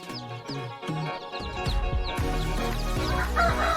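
Chickens cluck and crow close by while small laying-hen and native chicks peep in high, quick chirps inside a raised brooder cage, a busy overlapping flock sound throughout.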